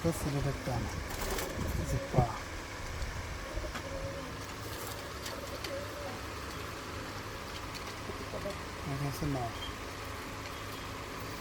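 Jalali pigeons at a pigeon farm coo softly in low, repeated bursts against a steady background hum, with a few brief sharper sounds mixed in.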